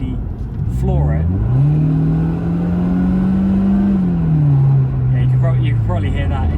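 A Mercedes CLK 230K revs up loudly at full throttle, its pitch climbing and holding high under acceleration, then dropping back, with a voice speaking over it at times.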